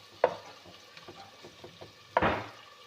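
A spoon scrapes and stirs a bhindi masala mixture of okra, spices and salt in a pan, with two sharp scraping strokes and a few softer taps between them, close and alone.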